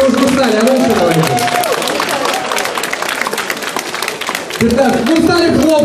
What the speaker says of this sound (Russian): Ну, стали хлопать, я понимаю